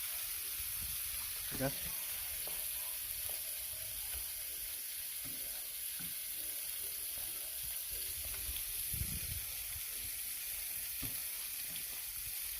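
Roux frying in a pot with hamburger steak gives off a steady soft sizzle, with occasional stirring scrapes and brief speech in the background.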